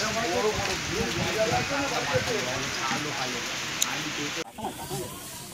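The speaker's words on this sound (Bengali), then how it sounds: "শিকারীরা ভিজছে মোটামুটি, আমরা ঠিক 41-এর উল্টো দিকে দাঁড়িয়ে পড়েছি, যেহেতু বৃষ্টিটা খুব জোরেই পড়ছে।" Heavy rain pouring at a fishing lake, a dense steady hiss of drops close by that stops abruptly near the end, with a voice talking over it.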